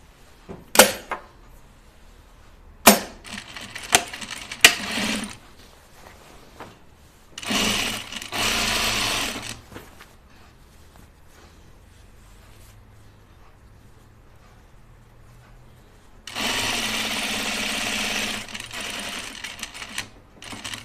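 Home sewing machine stitching a ready-to-wear garment being reworked, in two long steady motor runs of a few seconds each, with clicks and handling knocks between bursts and no talking.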